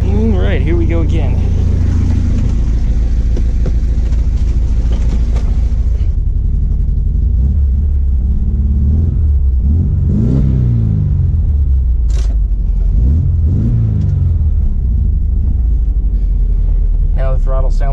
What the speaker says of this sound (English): Now the throttles sound like, carburetors sound like they're out of sync.